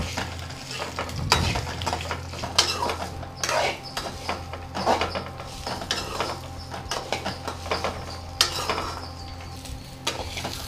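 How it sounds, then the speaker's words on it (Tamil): Chayote peel sautés in oil in a pan, crackling and sizzling up close while a spoon stirs and scrapes in irregular clattering bursts across the whole stretch, no talking. "கொஞ்ச நேரம் எண்ணெயிலே வதங்கட்டும்."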